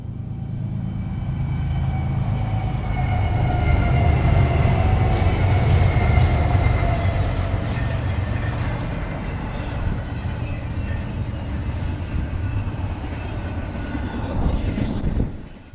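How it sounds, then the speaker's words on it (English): A train rumbles past a parked Winnebago motorhome, a loud, steady low roar with rail squeal building over several seconds, then slowly fading away. "Look, here's a train now."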